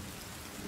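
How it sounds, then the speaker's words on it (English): Rain falls steadily in a video game, a dense, even hiss of drops that is brief and close, with no talking over it. "Oh, it's raining."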